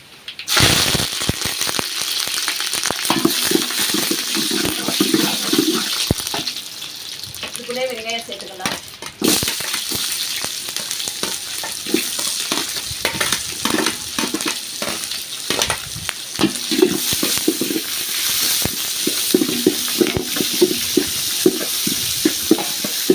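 Mustard seeds, fenugreek and two sprigs of fresh home-grown curry leaves crackle and spit in hot oil, a loud dense frying hiss full of rapid pops, with occasional utensil clinks and a brief lull partway through.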